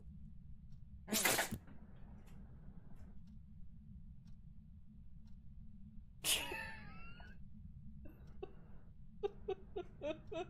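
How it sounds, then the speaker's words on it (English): Two sharp, explosive sneezes from a dog, several seconds apart, followed by a few soft snorts and ticks in an otherwise quiet room. "The dog sneezed in my face."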